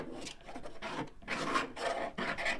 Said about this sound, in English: we're going to go back in and scrape some away